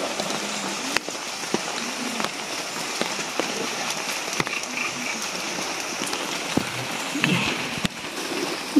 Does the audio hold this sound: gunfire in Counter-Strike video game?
no